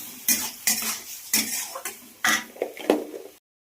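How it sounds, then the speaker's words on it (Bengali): A utensil scrapes and clanks against a pan as vegetables with turmeric and salt are stirred and sautéed, with about eight loud, close strokes in an uneven rhythm and no talking. "এর মধ্যে দেবো হচ্ছে হলুদ আর একটু নুন, সামান্য নুন দেবো, দিয়ে সবজিটা কষতে দেবো"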